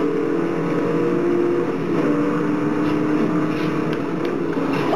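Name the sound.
Bugatti car engine racing on highway, from video game Forza Horizon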